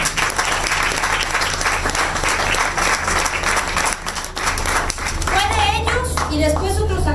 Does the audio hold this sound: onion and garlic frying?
no